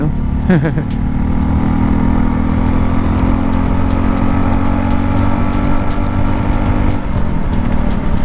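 A Honda CB650 motorcycle rides along with a steady, loud engine drone mixed into other traffic noise, and a brief rising rev near the start.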